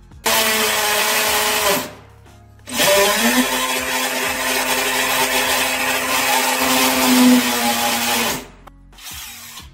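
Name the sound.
hammer drill drilling into a bathroom wall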